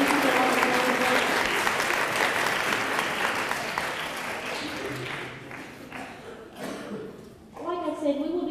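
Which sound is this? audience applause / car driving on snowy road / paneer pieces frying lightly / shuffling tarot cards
audience applause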